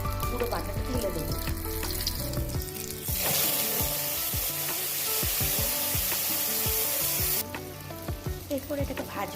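Ground pointed gourd paste frying in hot oil in a home kitchen, a loud broadband sizzle that swells for several seconds mid-clip, with steady music playing before and after it.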